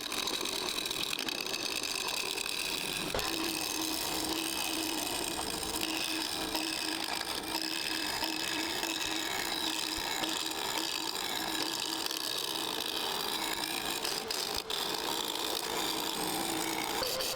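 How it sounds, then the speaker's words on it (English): A skew chisel makes peeling cuts on green wood spinning on a lathe, a continuous dense whirring and rasping drone with a steady motor hum, unbroken for the whole stretch. "Here I'm just making some peeling cuts, trying to reduce mass overall and get rid of the sharp corners."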